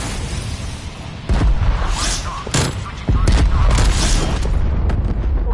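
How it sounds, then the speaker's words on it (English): Booming cruise missile blasts in a PS5 zombies shooter, two heavy explosions hitting about a second and a half apart over a constant roar of gunfire and battle noise. "Cruise missile ready for launch."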